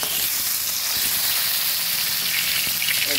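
Partly fried katla fish pieces, just turned over, crackle and sizzle in hot oil with a bright, continuous hiss and faint stirring clicks near the pan.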